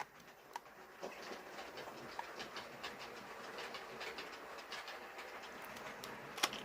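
A long 00 gauge model diesel train runs along its track, a soft continuous rumble with light rhythmic clicks from the rail joints, quiet and steady with a few sharper ticks.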